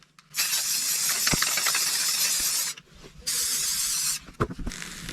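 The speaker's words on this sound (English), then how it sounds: "a quick coat of white spray paint" A can of white spray paint hisses in two long, steady bursts separated by a short pause, close and loud, with a faint rattle between sprays.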